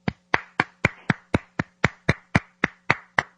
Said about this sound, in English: Paul, I just need to applaud